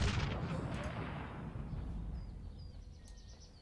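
A building blown up in the strategy video game Cossacks 3, a sudden loud explosive burst that fades into a decaying rumble over a few seconds, with no other sound.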